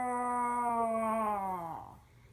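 A person imitates a whale with one drawn-out, moaning vocal call that holds steady, then slides downward and fades out after about two seconds.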